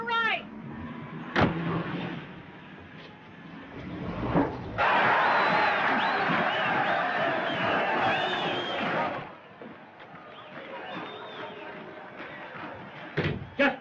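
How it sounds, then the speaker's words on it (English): A boxing crowd yells for the main event in a 1930s screwball comedy, a loud swell of cheering in the middle, fainter murmur on either side, with people talking over it. "The crowd's yelling for the main event."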